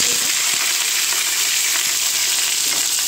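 Potatoes cooking in a pan with salt and turmeric for a simple curry, a continuous dense sizzle close up, steady and loud throughout with no talking.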